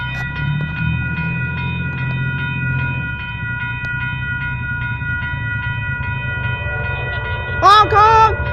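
An Amtrak train rolling past a railroad crossing, its steady low rumble and wheel noise joined by the ringing crossing-gate bells, with a loud horn blast near the end; people talk and shout nearby.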